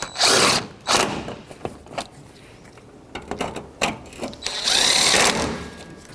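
Alternator mounting bolts being run in and tightened on a 2006-2012 Toyota RAV4, short bursts of close mechanical whirring from a tool separated by quiet handling clicks and rattles.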